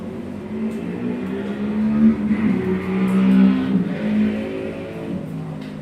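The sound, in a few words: vintage motorcycle race starting at Barber Motorsports Park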